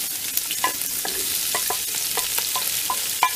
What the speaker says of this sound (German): Erstmal brutzeln.